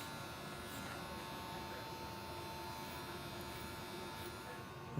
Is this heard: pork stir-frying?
no